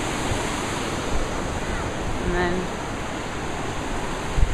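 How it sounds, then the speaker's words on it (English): The lower falls at Yosemite roar as a constant loud wash of falling water heard from a bridge nearby, with a brief spoken voice and a faint whistle-like tone partway through. "The falls are kind of loud, but this is the lower falls."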